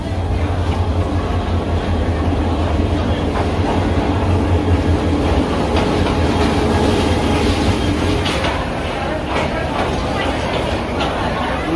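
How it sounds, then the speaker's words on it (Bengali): A local train rolls into a Bangladesh station with a loud, continuous rumble, clattering wheels and a low steady drone, with a busy platform crowd murmuring throughout. "লোকাল গাড়ি এসে পৌঁছালো।"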